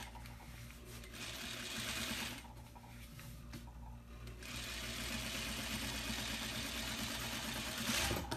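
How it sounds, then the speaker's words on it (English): A sewing machine runs steadily, top stitching the back of a fabric wristlet, its close, continuous mechanical whir holding for the whole stretch with slight shifts in speed. "I'm going to top stitch the back now."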